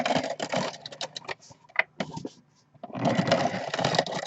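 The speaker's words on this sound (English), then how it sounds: "I'm just using my ATG gun to put tape, focusing mostly on the edges" An ATG tape gun lays adhesive tape along edges, giving rapid clicky, ratcheting bursts that pause briefly and then resume in a steady, close run.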